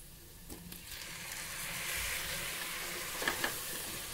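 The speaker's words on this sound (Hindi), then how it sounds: "अब फ्लेम हम हाई कर लेंगे और इसे एक दो मिनट भून लेंगे।" Chopped tomatoes fry in a spiced masala in a pan, a soft, steady sizzle with a few brief crackles and light scraping of stirring, fairly quiet throughout.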